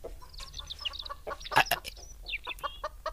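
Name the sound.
chickens clucking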